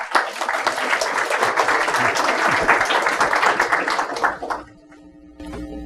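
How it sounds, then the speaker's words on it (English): Audience applauding a third-place student winner at a Memorial Day essay contest, dense steady clapping for about four and a half seconds before it dies away. "Let's give her a round of applause."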